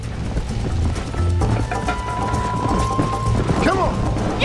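Galloping horse hooves in the Red Dead Redemption video game, a steady rhythmic clip-clop running throughout under game music, with a voice speaking over it.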